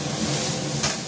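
Salted vegetables sizzle steadily in a hot pan, a close, even crackling hiss with a slight swell near the end, no voices.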